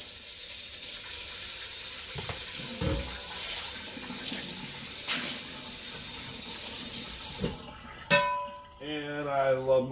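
Water runs steadily from a tap over a cast iron pan being rinsed of garlic in a kitchen sink, a continuous hiss with a few knocks, ending abruptly as the flow stops and a short voice follows.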